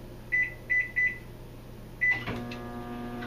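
A microwave oven is started by mistake: three quick button beeps, a pause, a fourth beep, then the low steady hum of the running microwave, close and clear.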